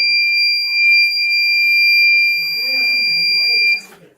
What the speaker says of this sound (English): we would receive a buzzer sound